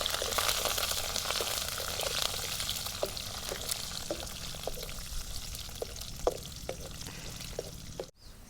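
Curry leaves frying in hot tempering oil, a continuous close sizzle with scattered sharp pops and crackles, ending in a short clatter.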